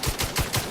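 Rapid automatic gunfire in The Outer Worlds 2 comes as a quick burst of about five sharp, evenly spaced shots, loud and close.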